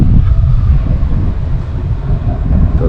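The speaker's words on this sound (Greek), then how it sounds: "Απέναντι είναι ο σιδηροδρομικός σταθμός." A continuous, loud rumble of rail traffic at the railway station in Grenoble, heard from a hotel balcony across the street, with no clear breaks or voices.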